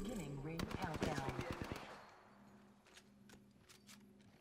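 Rapid automatic gunfire rattles in a dense burst during a round of the video game Apex Legends, then fades to quieter, sparser distant shots with a faint tonal hum underneath.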